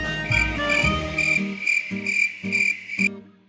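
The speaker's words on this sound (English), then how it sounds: "Cricket." A cricket chirps in a loud, steady series of bright, shrill pulses about three per second, with a low buzzing tone underneath before the sound cuts off abruptly.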